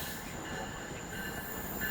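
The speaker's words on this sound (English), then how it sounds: "that was a double-decker train from Point Pleasant" An NJ Transit double-decker train running between Bay Head and Long Branch rolls past at Red Bank, New Jersey, with a steady close rumble of wagons and a thin metallic wheel squeal laced through it, with no voices.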